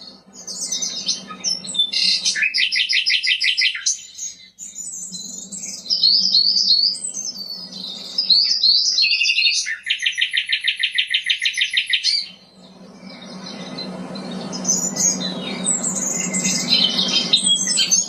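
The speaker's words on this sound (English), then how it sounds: "I want you to relax to the sound of the birds chirping" Birds chirp and trill in a calm natural setting: bright, repeated bursts of song, close and clear, alternate with squawks and short calls, with no talking and a soft low rumble underneath.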